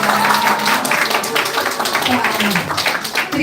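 Audience applause at a Korean community gathering, dense clapping from many people close by, with voices mixed in beneath it.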